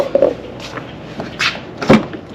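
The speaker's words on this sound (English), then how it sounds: "I got no problems opening the door anymore" A Lexus SC430 car door after a latch repair gives a few short mechanical clicks and clunks, then a louder latch thunk near the end, heard up close with no talking.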